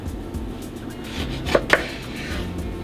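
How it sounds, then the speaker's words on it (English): A knife cuts a piece of vegan salmon in half on a board, giving two quick, crisp chops a moment apart over quiet room tone. "I'm just gonna cut it in half. Cut it in half again."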